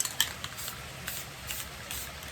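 Aerosol spray paint hissing onto a tumbler in navy for a beach swirl design, a few faint close bursts and a steady quiet hiss with no talking.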